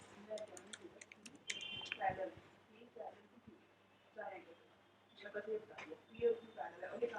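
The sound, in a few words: typing a web address on a computer keyboard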